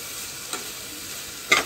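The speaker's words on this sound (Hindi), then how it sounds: "थोड़ा सा नमक देंगे, नमक दे के फ्राई करेंगे।" Masala frying in a pan with a little salt for a fish curry, a soft steady sizzle with two brief stirring scrapes, no talk.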